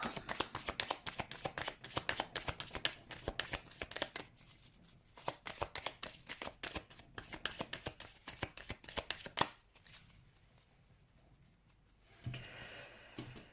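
Tarot cards being shuffled for a reading: rapid papery riffling and tapping in steady bursts, close and fairly quiet, pausing briefly and resuming, with a soft handling thump near the end.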